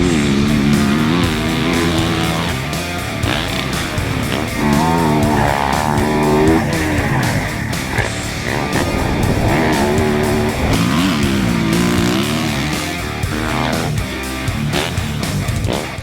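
A 2016 Yamaha YZ450F motocross bike being ridden, its loud, continuous four-stroke engine roaring and rising and falling in pitch as the throttle opens and closes, close up and sustained throughout.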